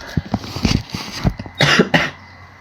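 Several sharp, harsh coughs into a shirt close by, in uneven bursts, the last two longer and rougher.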